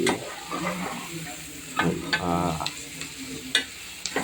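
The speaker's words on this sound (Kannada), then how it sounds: "ಎಣ್ಣೆಯಲ್ಲಿ ಹಾಕಿ ಸಣ್ಣಾಗಿ ಫ್ರೈ ಮಾಡಬೇಕು" Eggs fry in hot oil for egg biryani, a steady sizzle under scraping and stirring from a utensil against the pan, with a few sharp metallic clinks, close and moderately loud.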